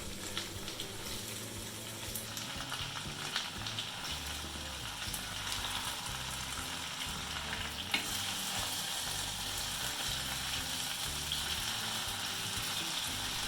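Potatoes and mixed vegetables fry in a pan with salt and pepper, giving a dense, continuous sizzle close by, with occasional stirring scrapes and a brief louder clatter partway through.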